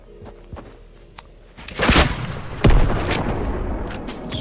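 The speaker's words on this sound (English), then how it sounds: "Shoots a rocket and doesn't hit anything." A rocket launches in a shooting video game, a sharp whoosh and blast with a second boom a moment later, loud over a steady rumbling game backdrop.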